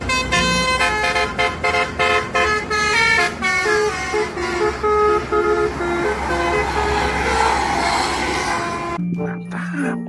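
A Rimba Raya bus sounds its musical horn in a rapid run of melodic toots, loud and close, then a lower sustained honk near the end cuts through the engine rumble.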